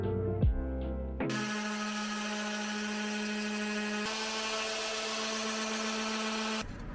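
A steady power-tool whir with a strong hum runs continuously for several seconds, close and loud, after a brief knock at the start.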